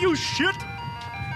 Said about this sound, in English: Is that the ice cream truck?